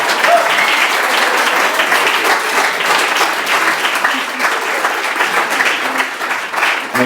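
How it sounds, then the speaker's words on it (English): Sustained audience applause fills a live comedy and poetry night at the Old Hairdressers, dense and steady for the full stretch with no voice breaking through. "A round of applause for the young man in the back."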